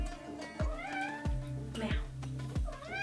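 A house cat meows repeatedly, several short rising calls at a close, even rhythm, with a person's voice briefly mixed in between them.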